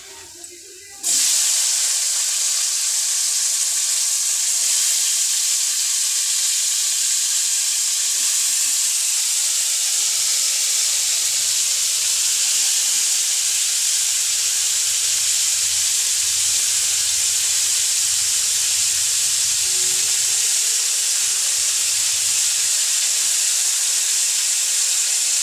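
Potatoes hit hot oil with fried onions in a pan for a Telugu-style potato fry, setting off a loud, steady hiss that starts suddenly and holds unbroken for over twenty seconds, close by.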